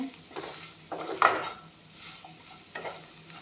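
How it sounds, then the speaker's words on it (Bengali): Jackfruit seeds fry in a pan while a utensil stirs them, producing soft intermittent scraping and clinking strokes over a low sizzle, close and moderately quiet. "এইখিনি অলপমান ভাজি ল'ম এয়া চাওঁ ভালদৰে ভজা গৈছে"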